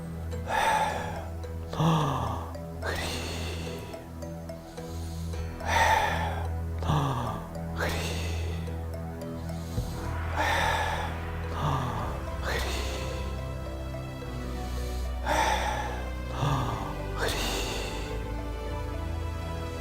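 Breathing exercise performed up close: a deep audible inhale followed by a long exhale voiced as a humming 'm' sound, repeated in a slow, regular cycle about six times.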